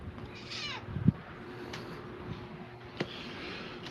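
A house cat meows once or twice in close, short calls against a quiet indoor background, with a faint sharp knock partway through.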